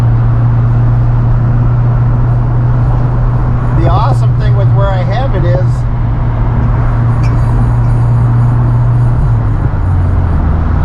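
Steady low road rumble fills the cabin of a Fiat 124 Spider on the move, a continuous drone under someone talking close by.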